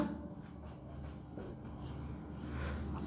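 Marker writing a word on a classroom board during a reasoning lesson, giving soft, quick scratchy strokes in short bursts, faint and close, with no speech.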